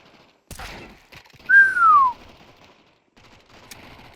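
A Desert Eagle headshot in Counter-Strike 2 lands with a sharp gunshot crack and a thump, followed by a bright descending whistle-like tone, with scattered quieter game sounds before and after.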